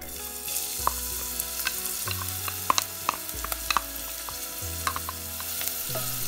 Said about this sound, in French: une fois la casserole chaude, on y dépose l'oignon.